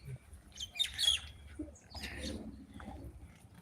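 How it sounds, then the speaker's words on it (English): Birds chirp high in maluka trees in a garden in the Philippines, with a few faint, brief tweets and calls over a quiet background. "These are maluka trees. There's some birds up the top."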